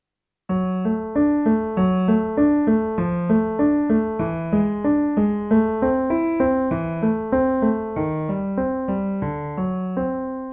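Piano playing a piece without pedal in detached, separated notes with no sustain, a steady rhythmic pattern of short chords and bass notes, close and clear, no voices.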